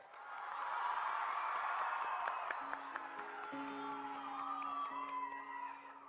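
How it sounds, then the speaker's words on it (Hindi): A crowd at a live Durand Cup trophy tour event cheers and whoops loudly to welcome performers, with sustained applause swelling and then carrying on while a tonal musical sound enters underneath. "तो चलिए सब मिलकर जोरदार तालियों की गूंज से इनका स्वागत करें"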